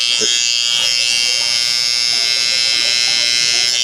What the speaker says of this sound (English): So what you want to do is go with the grain, or I mean against it, but with the trimmer flip like this